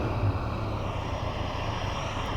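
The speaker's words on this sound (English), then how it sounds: "airplanes here." A steady low drone of airplanes flying overhead, continuous and fairly loud, with no talking.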